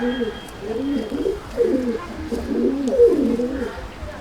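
Pigeons in a loft coo in soft, throaty rolling phrases, several close calls repeating over a quiet background.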